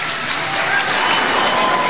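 Sustained applause fills a large hall as the newly elected president of Cameroon enters his swearing-in ceremony before parliamentarians and state officials, a dense, even roar of clapping from the assembled audience.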